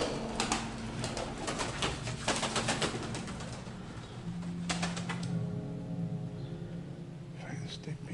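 Pigeons cooing in a derelict, eerie building, soft repeated low coos alongside scattered clicks and rustles, with hushed voices murmuring nearby.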